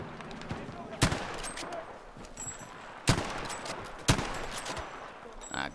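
Gunfire in Battlefield V, with several sharp loud single shots spaced about a second or two apart over faint background battle noise and low voices.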